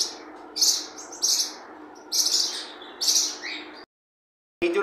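Pet fire tail and forpus birds in a home loft, chirping in short bright bursts about every second, close and clear, then a brief silence before one more chirp.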